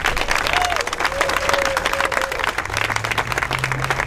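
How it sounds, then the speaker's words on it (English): Audience applause at a press conference on equal pay in Nevada, a dense, steady wash of many hands clapping that holds at full strength for the whole stretch, with a low hum underneath. "So please give her a round of applause"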